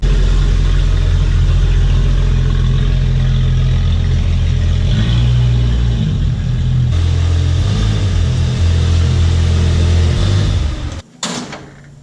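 Jeep XJ hauled out of a shop by a winch, a loud steady low motor drone with a droning whine that shifts pitch midway, ending abruptly in a couple of clunks.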